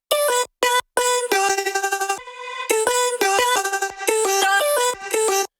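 Dry EDM vocal chop from a sample pack, left unprocessed: short pitched vocal syllables cut into a rhythmic, stuttering melodic pattern with abrupt gaps, loud and close, no other voices.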